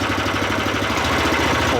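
A WEIMA WM1100F walk-behind tractor engine idles steadily while warming up, giving a close, continuous rhythmic throb with no change in speed.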